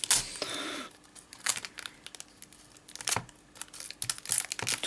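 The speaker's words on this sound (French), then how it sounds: "Toujours galère à ouvrir ces kits." Packaging of a Pokémon Diamond & Pearl trainer kit being torn open, with bursts of ripping and crinkling plastic and cardboard, close up, separated by short quiet gaps.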